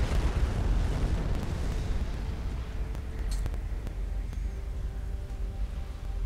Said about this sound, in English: Here comes the nuke.